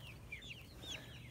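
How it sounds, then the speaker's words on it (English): Several chickens cluck and chirp softly over a low background hum, short rising calls overlapping at moderate distance. "And the chickens are extra excited, especially the hens."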